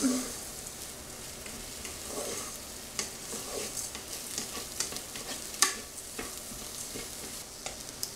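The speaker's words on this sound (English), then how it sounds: "now that that is all browned and starting to saute" Food sautéing and browning in a pressure cooker on its saute setting, a continuous soft sizzle with scattered stirring scrapes and taps, fairly close and without talk.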